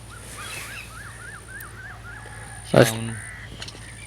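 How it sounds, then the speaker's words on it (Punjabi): A single crow caws once, fairly close, against a steady background hum and faint distant bird calls. "ਇਹ ਜਦੋਂ ਬੀਜੀ ਨਾ ਕਾਂ ਆਉਂਦੇ"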